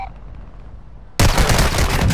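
Gunfire in the video game Call of Duty: Modern Warfare II breaks out suddenly after a low, murky lull and continues as a dense, loud burst of shots to the end.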